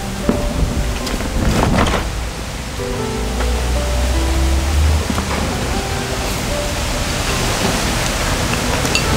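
Steady rain falls outside a home kitchen during stir-frying of noodles with beef and mustard greens, a constant broad hiss with a few brief knocks and a low hum partway through.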